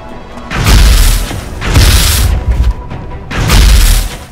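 Gunfire in XCOM: Enemy Within sounds as three loud, booming bursts with rumbling tails, spaced about a second apart.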